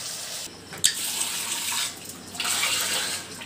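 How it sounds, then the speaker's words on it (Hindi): Water runs from a tap into a cooking pot of fish jhol curry, a steady broadband splash with a short clatter near the start and a louder second pour toward the end. "तो अभी देख सकते हो पानी दे दिया है"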